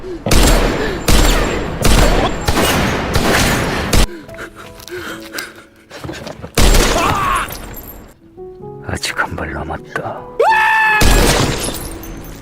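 Pistol shots fired through a car's bulletproof glass in a Korean thriller film: several loud, sharp gunshot bursts at the start, then quieter tense stretches before another heavy impact near the end.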